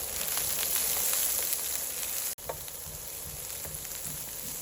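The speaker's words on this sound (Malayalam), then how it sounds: "ഉള്ളി നന്നായിട്ടൊന്ന് വഴന്നു വന്നിട്ടുണ്ട്." Chopped onion sautés in hot oil in a pan, a dense, steady sizzle close by with scattered crackles and a brief dropout partway through, no voices.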